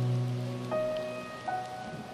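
Steady rain falls in a soft, even patter, heard alongside sustained tonal music with no voices.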